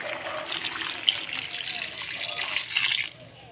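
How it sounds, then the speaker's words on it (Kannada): Water poured onto grated coconut in a cooking pot, a close, soft trickling splash running steadily for about three seconds before tapering off abruptly. "ಅದಕ್ಕೆ ಎಷ್ಟು ಬೇಕಷ್ಟು ನೀರನ್ನು ಹಾಕ್ಕೊಳ್ತೇನೆ ಬೇಯಲಿಕ್ಕೆ."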